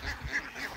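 A duck quacks by a river, giving a couple of short, soft nasal calls over faint outdoor background in under a second.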